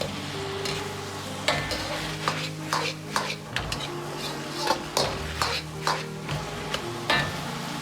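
Pork with garlic and red pepper being stir-fried in a wok, a continuous sizzle under repeated scraping strokes of the spatula against the pan at a steady, lively rhythm, close and moderately loud with no talking.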